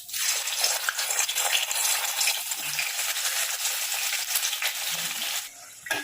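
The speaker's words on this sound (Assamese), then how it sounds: "বইল কৰা আলুখিনি ফ্ৰাই কৰি লওঁ" Boiled potatoes fry in hot mustard oil in a wok, giving a steady, moderately loud sizzle with faint stirring scrapes that tapers slightly near the end.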